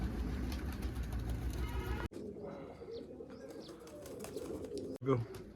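Soft pigeon coos and chirps under a rumbling background hum and some distant voices, with a couple of abrupt cuts.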